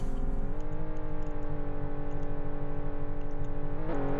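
A car engine in the Roblox video game drones steadily with a continuous, even hum throughout and a small shift in pitch near the end, with no talking.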